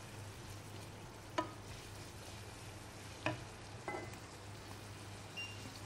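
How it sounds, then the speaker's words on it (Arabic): Flour cooks in a pan for a béchamel sauce for eggplant gratin, giving a soft, low sizzle under occasional sharp scrapes and knocks of a spoon stirring it, with no voices. "بدنا نضلنا نحرك لمدة 3 لـ4 دقايق لحتى يستوي الطحين"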